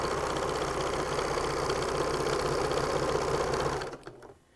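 A sewing machine stitches binding onto a T-shirt quilt in a steady, close, continuous whir for about four seconds, then cuts out abruptly, leaving near silence.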